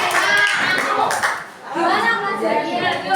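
Students clapping in a classroom after a lesson on social norms, a loud burst of close hand claps that dips briefly mid-way and resumes, with children's voices mixed in.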